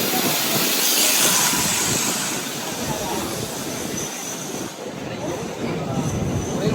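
A MEMU passenger train runs with a steady, loud rumble of wheels and carriage noise plus a broad hiss, sustained throughout with slight variation, heard from on or near the train.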